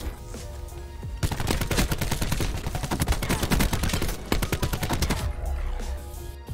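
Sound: gunfire from a Madoc gun in video game Black Ops 4

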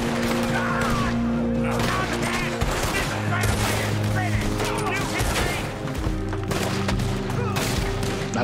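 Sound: gunfire in the video game Red Dead Redemption 2

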